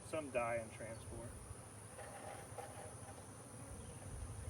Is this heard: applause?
no